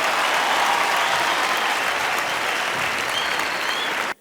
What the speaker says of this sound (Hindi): एक बार जोरदार तालियां फॉर प्रीतम दा